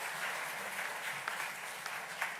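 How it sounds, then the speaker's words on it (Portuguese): A church congregation at Sunday Mass applauds a girl receiving a diploma, giving steady, moderately distant clapping with a few sharper individual claps standing out. "nós damos uma grande salva de palmas também"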